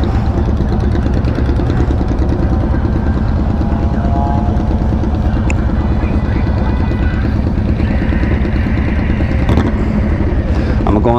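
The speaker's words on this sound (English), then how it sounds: "that bike just kicked mad dust into my eyes" Harley-Davidson motorcycle engine at a dealership demo day with 2024 Road Glide and Street Glide test rides, a loud, steady, low rumble throughout, close by and dense, with voices mixed into the noise.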